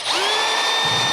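A power drill whirs steadily for about a second while driving screws during assembly of a drone kit, loud and close with a rising motor whine and a slight change in pitch near the end.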